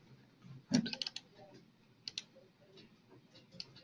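A computer mouse clicks on a desk during a programming session, a sharp double click near the start followed by a few fainter isolated clicks, quiet and close with no talking.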